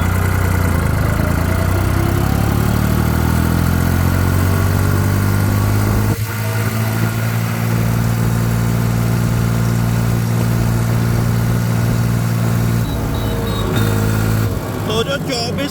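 A New Holland 3630 tractor engine runs steadily near 2400 RPM at top road speed, a loud continuous drone with strong low harmonics that dips briefly midway and then holds.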